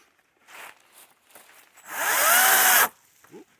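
A Kobalt 14-inch electric chainsaw cuts up a tree, with a couple of short whirring bursts followed by a loud, sustained cut of about one second that rises in pitch and then stops abruptly.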